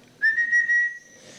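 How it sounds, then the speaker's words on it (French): A person whistles a single sustained, slightly wavering tone, close and clear, lasting under a second before fading into quiet room noise. "Tu pourrais pas siffler pour l'empêcher de ronfler, parfois ça marche."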